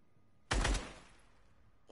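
A short, loud burst of rapid gunfire from a video game, a dense volley lasting about a quarter second before dropping to quiet background noise.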